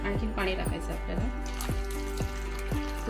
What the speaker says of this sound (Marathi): आणखी पाणी टाकायचं आपल्याला।